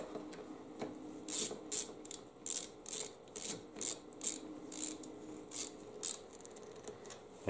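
A socket ratchet wrench clicks in a steady run of short, close strokes while tightening bolts on a Yard Machines lawn mower.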